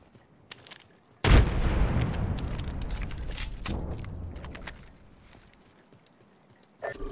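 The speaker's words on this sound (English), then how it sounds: "Grenade out." A grenade goes off in the video game Apex Legends: a sudden loud boom that rings out and fades over several seconds, followed by scattered pops and a sharp burst at the end.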